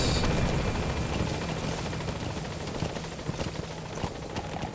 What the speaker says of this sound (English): let's get off the chopper